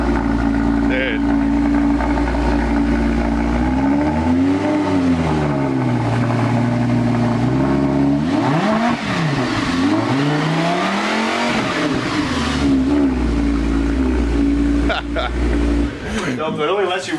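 Engine on a T37 build revving up and down in a few swelling sweeps, loud and close inside the vehicle, with people talking throughout.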